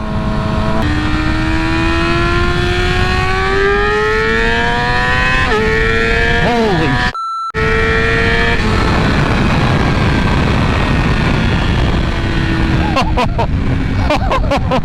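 A Yamaha R6 sport bike with a flashed ECU pulls hard through second gear, its loud, close engine climbing steadily in pitch, dropping briefly at a shift and then rising again, followed by a rough, sustained roar.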